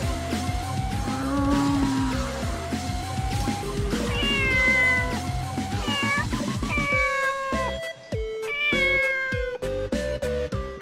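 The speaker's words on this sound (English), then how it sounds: "My cats are getting freaked out by this cat and the cat noises." Repeated cat meows from the video game Shin Megami Tensei X Fire Emblem, loud and close, rising and falling in pitch over a busy musical backdrop, with several distinct calls spread across the stretch.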